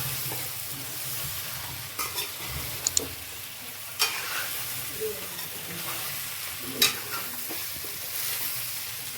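Patra being stirred by hand into a hot spice tempering, with a low continuous sizzle and occasional soft scrapes and clicks, fairly close and without speech.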